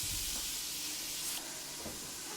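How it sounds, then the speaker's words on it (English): Bacon browns in an Instant Pot set to saute, giving a soft, continuous hiss and sizzle close by with no talking. "I'm going to brown that bacon up nice."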